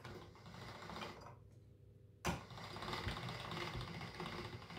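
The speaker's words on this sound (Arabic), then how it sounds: "في هاد الماكينه ديال التوراق. نبدا نورقها" A dough sheeting machine rolls thin sheets of dough for Moroccan chebakia, giving a steady mechanical whirring hum that cuts out briefly, then resumes with a sharp clunk and continues running.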